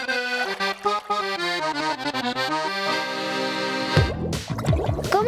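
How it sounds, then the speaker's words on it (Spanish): Accordion on its fullest register, rich stacked reeds playing a run of chords and notes that swell into a dense sustained sound before a rougher, clattering ending, close and fairly loud. "Y la que es más completa suena así."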